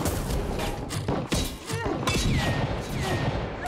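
Gunfire and impacts from shooting at a lock in the video game Crab Champions: a dense, continuous barrage of thuds, crashes and whooshes layered over game music, with a brief drop before the firing resumes.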